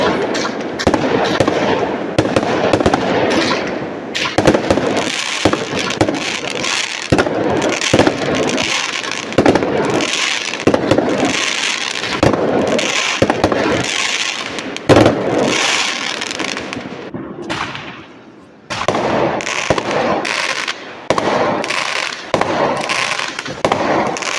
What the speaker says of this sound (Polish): możecie razem ze mną oglądać pokaz fajerwerków